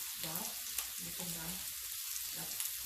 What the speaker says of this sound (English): that bacon's got to cook. Got to crispy it up